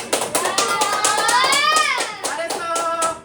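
Children clap together in a short burst of quick, uneven applause, with a voice rising over the claps partway through.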